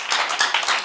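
A church congregation claps in quick bursts of applause, a short dense patter of hands.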